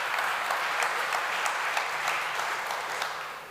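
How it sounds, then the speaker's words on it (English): An audience at a conversation event applauds, a broad, even wash of many hands clapping that holds steady for a few seconds and then starts to fade. "You will get applause for that,"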